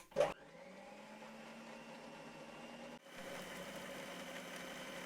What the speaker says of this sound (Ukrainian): Тепер додаємо мед. І ще раз збиваємо.